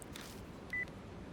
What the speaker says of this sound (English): he makes a phone call